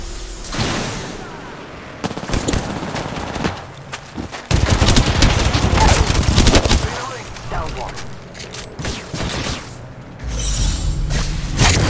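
Rapid bursts of automatic gunfire and booming shots ring out in an Apex Legends match, loud and repeated in clusters, with players talking over the shooting.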